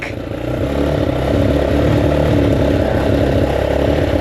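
A Racal Motofino XRE 250 motorcycle engine rumbles steadily at close range on its first start, a throaty, uneven idle that swells slightly after starting and holds at a loud, constant level.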